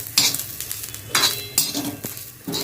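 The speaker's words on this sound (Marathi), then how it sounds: "तीळ जे आहेत ना ते चांगले आपण यामध्ये मिक्स करून घेऊया" Sesame seeds stirred in hot oil on a stove, a spoon sweeping and clinking against the pan in a few bursts amid soft frying crackle, close and moderately loud with short pauses between strokes.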